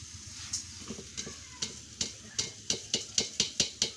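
Soaked polao rice stir-fried in a pot over a clay stove, a soft sizzle under repeated spoon scrapes and knocks against the pot that quicken into a fast regular rhythm toward the end.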